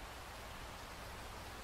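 Steady rain falls in an even, dense hiss with no breaks, filling the whole short stretch at moderate loudness.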